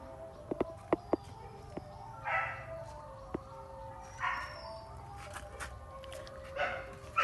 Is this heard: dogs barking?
yes